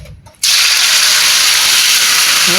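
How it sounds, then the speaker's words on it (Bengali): Chicken pieces drop into hot oil in a home kitchen, and a loud, steady sizzle bursts in suddenly and holds close and continuous after a short quiet start. "তেলটা গরম হয়ে গেছে আমি মাংসটা দিয়ে দিয়ে"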